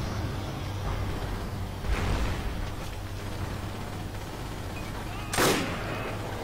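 A sniper rifle shot rings out in the World War II shooter Forgotten Hope 2 on the Alam Halfa desert map, one sharp distant crack with a tail, set against steady battlefield rumble and an earlier fainter report.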